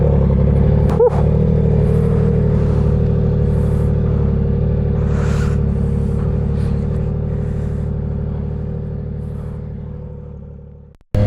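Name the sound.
Yamaha R9 motorcycle engine starting and idling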